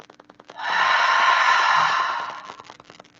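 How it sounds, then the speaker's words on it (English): A deep, drawn-out breath during anti-stress yoga rushes in loud and close for about two seconds, a breathy airy hiss that swells then fades, with faint clicks around it and no speech. "Get that deep breath in."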